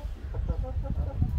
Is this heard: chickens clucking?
yes